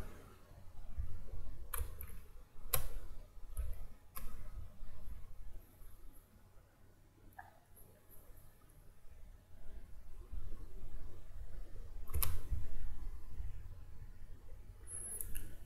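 Quiet computer mouse clicks at a desk while setting up a liquidity pool, a handful of sharp isolated clicks spaced irregularly over low room hiss.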